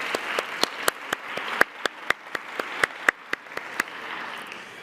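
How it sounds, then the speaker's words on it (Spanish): An audience at a public debt presentation event applauds. A sparse, steady patter of individual claps rings out over a soft wash of further clapping, fairly loud and close, with no talk. "¿Les parece si les damos un aplauso de agradecimiento?"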